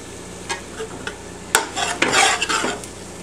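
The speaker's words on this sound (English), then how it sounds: "We want to add this in and stir it up really good so there's no lumps." Flour being stirred into reduced soy sauce in a pan: a utensil scrapes and knocks against the pan in short bursts over a light sizzle, growing busier toward the end, with no talking.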